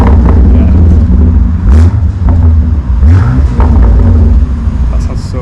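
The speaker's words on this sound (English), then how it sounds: "Oh, we're going to rev some more revs." A BMW X3M Competition revs its engine during an outdoor photoshoot, deep throaty low rumble with repeated throttle blips rising and falling, loud and close, with people talking over it.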